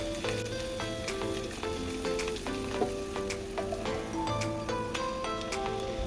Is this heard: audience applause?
no